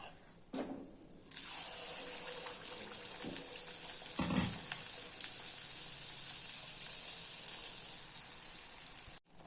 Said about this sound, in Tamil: இதே மாதிரி எல்லா அப்பத்தையும் சுட்டு எடுத்துக்கலாம்